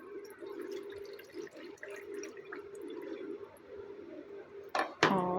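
Water is poured over raw mutton liver in a kitchen, a soft continuous trickle that ends in a brief louder splash.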